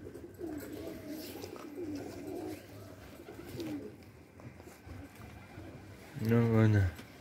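A pigeon coos softly in the background on a rainy day, then a louder, close warbling coo comes near the end over faint ambient noise.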